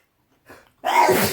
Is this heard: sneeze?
yes